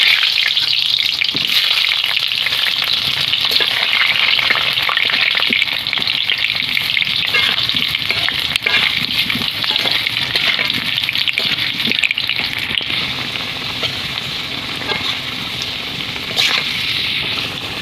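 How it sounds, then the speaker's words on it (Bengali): Potatoes frying in hot mustard oil in a wok, producing a loud, continuous crackling sizzle with fine popping that holds steady throughout, no voices over it. "তো তেল গরম হয়ে গেছে, আলুটা ভেজে নেব।"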